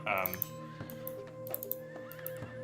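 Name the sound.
horse archer unit horse neighing, from a video game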